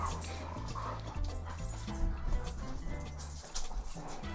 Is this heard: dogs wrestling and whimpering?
yes